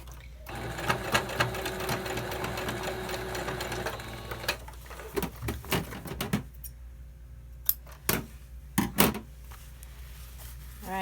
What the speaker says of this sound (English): I'm gonna actually just sew over it a little bit more to make sure.